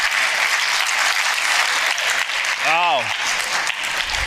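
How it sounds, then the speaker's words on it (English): Sustained applause from an audience at a business event for small and medium enterprises, filling the clip steadily, with a single brief exclamation spoken over it near the end. "Can we give him another round of applause?"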